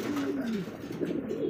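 A pigeon from a fancy breeding pair coos close by: one short, low, throaty warble that rises and falls over faint background murmur.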